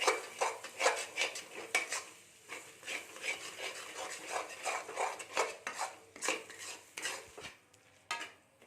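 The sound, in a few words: stirring chicken curry with pepper powder in pan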